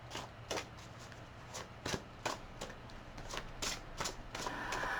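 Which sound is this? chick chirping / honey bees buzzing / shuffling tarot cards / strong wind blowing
shuffling tarot cards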